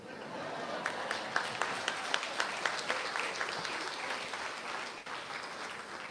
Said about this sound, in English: That did deserve an applaud